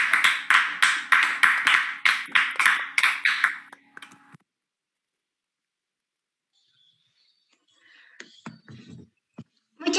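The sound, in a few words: applause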